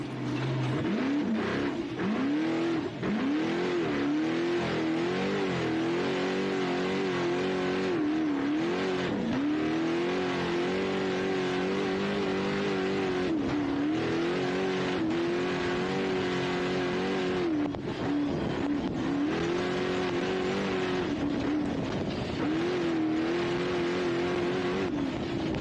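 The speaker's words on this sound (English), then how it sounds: "you jump on board with Bo Robinson here, you can hear that Dugan's big block." A 7-litre big block race car engine at a desert off-road race roars continuously, rising and falling through repeated revs and gear changes, loud and steady with no talking over it.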